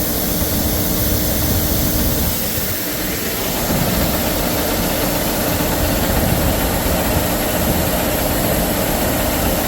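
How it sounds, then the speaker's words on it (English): A grain dryer runs with a pulley rubbing against the auger frame, giving a loud, constant mechanical roar and hum with a steady rubbing drone throughout and no pauses. "We got a pulley rubbing on there."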